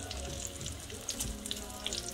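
Salmon croquettes fry in a pan as they are turned over, giving a faint, continuous crackling sizzle with small scattered pops and no voices.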